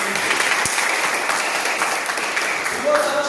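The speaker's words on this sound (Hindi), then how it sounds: "उनके लिए जोरदार तालियां बजाना" Loud, dense applause from a seminar audience in Godda, Jharkhand fills the room steadily for several seconds, a continuous wash of many hands clapping without a break.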